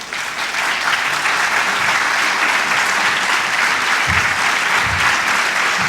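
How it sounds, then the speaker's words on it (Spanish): Sustained applause from a lecture audience welcoming the speaker, Santiago Kovadloff, dense and steady throughout with no voices over it. "para quien pedimos un fuerte aplauso"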